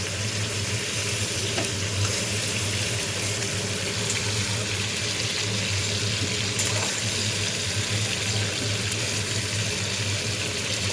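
Prawns fry in hot oil in a kadai, giving a steady, continuous sizzle with a fine hiss throughout, close and even in loudness, with no voices.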